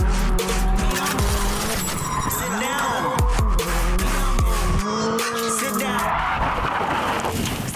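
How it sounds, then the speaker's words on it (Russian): A GAZ Pobeda drift car with a 550-horsepower engine squeals its tires loudly and continuously while the engine roars and rises in pitch, close and sustained throughout. "Двигатель 550 лошадиных сил. Мощь такая, что горят покрышки."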